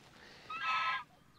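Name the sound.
geese honking in a pasture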